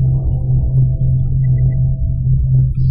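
Deep, loud droning hum of a ship dropped out of hyperspace in the space strategy game Homeworld 2, a sustained low rumble with a faint high tone.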